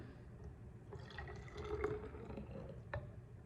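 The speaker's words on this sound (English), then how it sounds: "And we will pour it in." Liquid pours into a container with soft trickling and dripping, close by and fairly quiet, with no voices.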